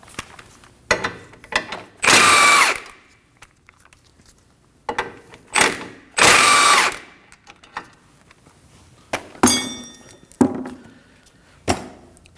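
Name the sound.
removing 18mm nuts with a socket ratchet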